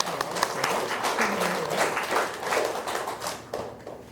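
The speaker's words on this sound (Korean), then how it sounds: "박수 한번 드리십시오" A church congregation claps together during a sermon in a Methodist church: a steady, fairly loud burst of hand clapping fills the room for about four seconds and thins out at the end.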